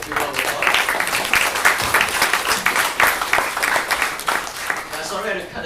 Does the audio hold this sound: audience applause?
yes